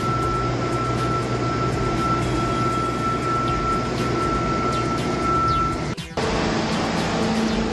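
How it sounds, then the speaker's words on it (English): An air blower clears excess sand from an industrial floor before the first epoxy coat, a loud constant rushing roar with a brief interruption near the end. "now the guys are blowing off all the excess sand in preparation for the first coat of epoxy"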